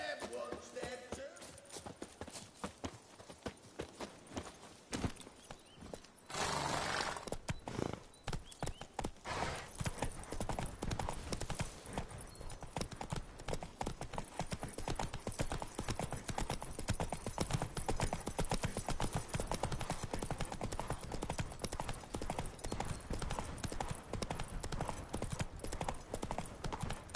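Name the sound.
horse hooves clip-clopping, riding in video game The Witcher 3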